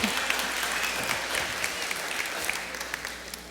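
A church congregation applauds new members at a Baptist service, dense clapping from a full room that stays loud and even from start to finish.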